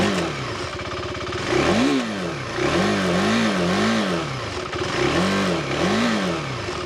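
A KTM 390 Adventure R single-cylinder motorcycle engine revs repeatedly up close, pitch rising and falling in quick throttle blips over a buzzy idle.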